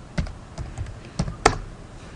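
A handful of separate keystrokes on a computer keyboard as a command is typed in 3D modeling software, spaced clicks ending in a slightly louder final press, close and quiet with no talk.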